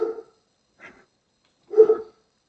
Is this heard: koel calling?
no